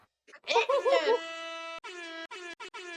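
A brief burst of voice gives way to a sad horn sound effect from a video game, a long sustained brassy tone followed by several shorter stuttering blasts, loud and close.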